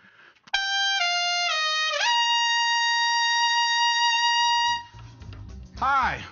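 A brass horn holds a bright sustained note after a couple of quick bends, then stops, leaving a low rumble and a swooping tone at the end.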